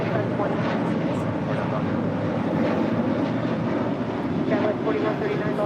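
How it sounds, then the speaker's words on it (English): An American Airlines Boeing 737-800 departs LAX bound for Phoenix, a steady broadband engine roar that holds throughout at moderate loudness. "That is American Airlines Flight 1270 departing to Phoenix on a 737-800."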